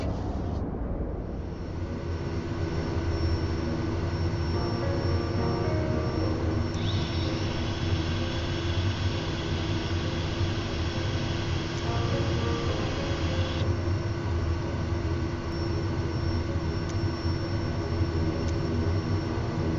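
A Kodiak 100 turboprop engine in a flight simulator holds a steady, loud drone with a constant whine and low rumble, unbroken for the whole stretch with no voices.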